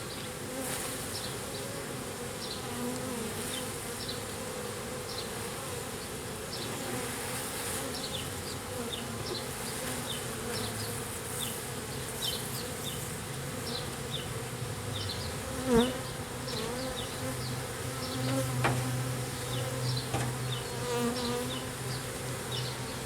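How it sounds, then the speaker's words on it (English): Honeybees hum steadily around a hive during a swarm introduction, a dense, continuous buzz with individual bees droning past close by now and then, and a few faint knocks partway through. "There's a bee on the front of that was angry for a second."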